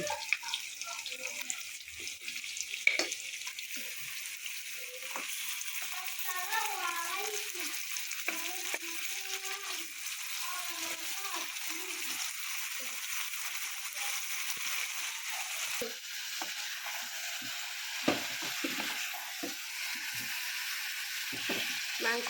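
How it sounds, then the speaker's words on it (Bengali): Beef sizzles as it goes into hot oil with onions and lightly fried garam masala for a shahi beef curry, a steady close frying hiss with occasional stirring clatters and faint voice-like tones in the middle. "মাংসটা দিয়ে দিছি দেখতে পাচ্ছেন মাংসটা সুন্দর করে একটু তেলের সাথে পেঁয়াজের সাথে একটু মাথায় ফেলছি"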